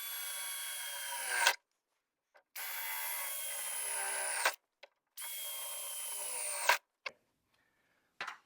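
A power drill bores a hole in the metal body of a Scout vehicle in three loud, steady bursts of whining, each about two seconds long, separated by brief silences.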